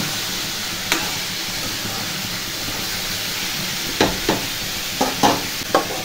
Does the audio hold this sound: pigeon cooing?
no